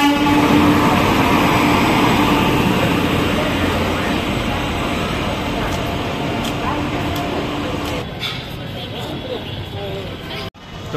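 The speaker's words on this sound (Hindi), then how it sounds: "जंक्शन पे पहुँचे हैं इस ट्रेन से सारनाथ एक्सप्रेस।" The Sarnath Express rolls into a railway junction with a loud, steady rumble and rattle of wheels and coaches. The noise eases toward the end and closes with a brief sharp clatter.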